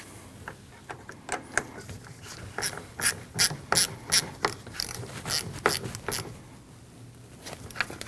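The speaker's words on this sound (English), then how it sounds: "Install it onto the negative terminal and tighten your nut." A ratchet tightens the nut on the negative battery terminal of a 2012-2021 Nissan NV2500 with a 5.6L V8, giving close, sharp clicking pawl bursts in uneven strokes that grow busier mid-clip, with no talk.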